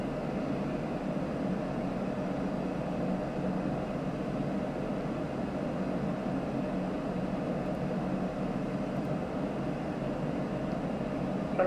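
An Aerosoft A330 sits at idle power in flight, giving a steady, even cabin-like engine drone that stays constant and moderately quiet throughout.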